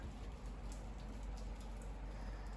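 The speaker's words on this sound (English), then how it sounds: "it's raining again." Steady rain falls outdoors on a farm, a soft, even patter and hiss holding at a constant level throughout with no talking.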